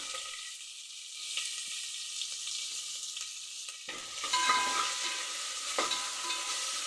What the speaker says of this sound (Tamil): நறுக்கி வச்சுருக்க வெங்காயத்தை சேர்த்துக்கலாம்